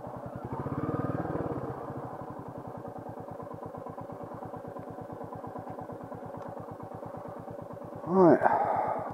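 A Royal Enfield Meteor 350 motorcycle rides through the dark, its single-cylinder engine thumping in a steady close rhythm throughout, with a louder revving surge near the end.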